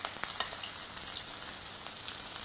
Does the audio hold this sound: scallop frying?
yes